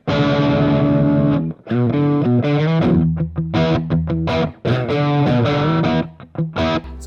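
A budget Les Paul electric guitar plays a loud, distorted riff through chorus and effects, with sustained chords and quick choppy notes separated by brief gaps.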